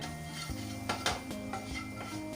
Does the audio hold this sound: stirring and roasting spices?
yes